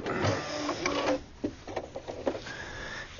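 Eversewn SparrowX sewing machine stitching a zigzag on batik fabric, a rapid whirring, chattering stitch run, near and fairly loud, easing into lighter clicks as it stops.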